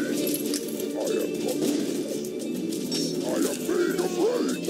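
Carrier pigeon units cooing in the Kingdom Rush Frontiers video game, soft repeated warbling coos layered over a steady, busy battle soundscape of game effects and music.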